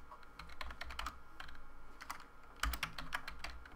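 Typing on a computer keyboard, a quick run of close, crisp key clicks in bursts with brief pauses, alone and fairly quiet.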